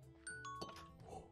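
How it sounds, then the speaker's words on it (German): A Minecraft redstone-house doorbell gives a clear ringing chime of a few bright tones with a lingering tail, moderately loud, with faint background noise and no talk. "der hat sogar eine Klingel gemacht"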